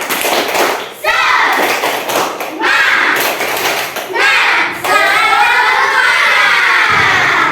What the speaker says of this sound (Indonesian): kita tepuk semangat dulu biar belajar kita tetap semangat